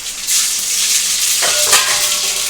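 Mustard seeds and fenugreek fry in hot oil for a vanjaram fish curry, giving a loud, bright, continuous sizzle close up, with a couple of brief crackling bursts near the end and no voices.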